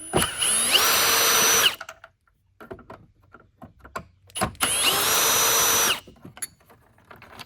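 A power drill backs Phillips screws out of a Hoover Tempo upright vacuum during disassembly: two loud, close, steady whirring bursts of about a second each, separated by quieter handling clicks and taps.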